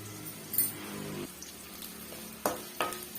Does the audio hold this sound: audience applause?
no